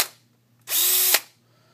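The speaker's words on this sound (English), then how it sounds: "Important to drill these out." A power drill bores out holes in a 3D printer part for a Printrbot build, whining loudly and steadily for about half a second before stopping, followed by quiet.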